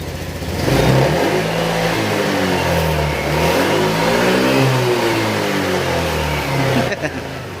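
A repaired motorcycle engine with an aftermarket connecting rod, piston and piston rings runs loud and close, its revving rising and falling in a steady mechanical drone before it cuts down at the end.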